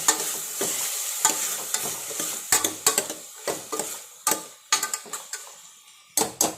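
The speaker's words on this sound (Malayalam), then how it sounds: "വാഴയ്ക്കൊക്കെയുള്ള എണ്ണ ഒഴിച്ച് കടുക് പൊട്ടി" Raw banana fries in oil with mustard seeds: a low sizzle broken by sharp crackling pops and clinks of a utensil against the pan, close and uneven, with no talking.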